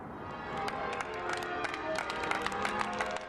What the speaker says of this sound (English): As was often the case with Graham Taylor, applause followed him wherever he went.